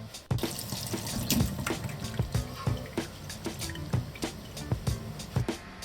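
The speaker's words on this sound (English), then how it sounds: "in the meantime, we're gonna drain the tofu." Water splashing and dripping as tofu is drained in a kitchen, a busy run of close, irregular splatters and trickles with no talking.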